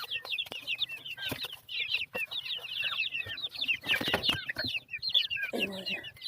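Native hens cluck repeatedly in a farmyard, with soft chicks and brief rustles around them, fairly close, and a voice talking quietly now and then underneath.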